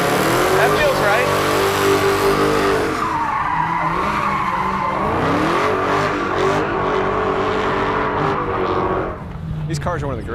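A Dodge Hellcat launches hard on a drag run, its engine roaring loud and close as it climbs through the gears, with tire squeal and a shift break midway and the revs dropping off near the end.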